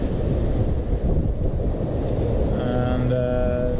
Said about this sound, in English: We have about 28 knots through wind